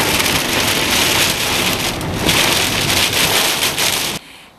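Pouring rain on the way to Haifa, a loud and constant downpour drumming on surfaces, heard alone until it cuts off abruptly near the end.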